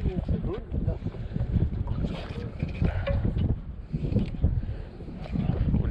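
Wind gusting steadily across a small boat while lure fishing for flathead at low tide, a rough, broadband rush that continues throughout, with people talking close by over it.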